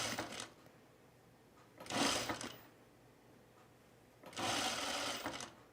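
A sewing machine stitches a pullover camp shirt with a popover placket in three short bursts of fast, close whirring, separated by quiet pauses.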